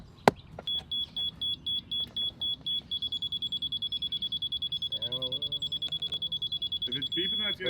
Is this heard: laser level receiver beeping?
yes